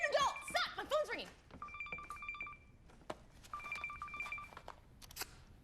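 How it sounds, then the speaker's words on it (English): A phone rings twice with a warbling electronic tone, fairly faint, following a burst of excited voices at the start. "My phone's ringing."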